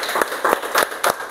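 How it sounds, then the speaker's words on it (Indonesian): A classroom of students claps for a student group after a magnet experiment, with short, uneven bursts of nearby hand claps and no talking. "Oke, tepuk tangan untuk kelompok 5."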